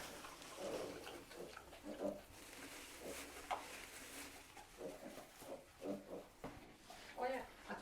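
Pigs grunt and snort repeatedly at close range, quiet and irregular, with people speaking softly in between.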